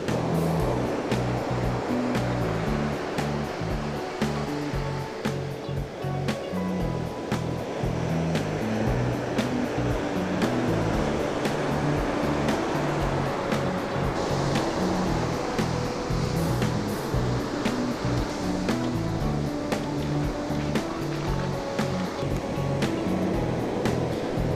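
Ocean surf breaking on a beach during surf fishing with a baitcaster, a loud, steady roar of waves rolling in continuously up close, filling the scene with wash and rumble and no talk.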